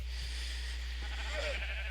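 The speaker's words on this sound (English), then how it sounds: "you get a lot of sheep, and again, these guys, some kind of AI issue, they're all stuck in here" A sheep bleats once, fairly faintly, on a sheep farm in the video game Minecraft Bedrock, over a steady background hum with no talking.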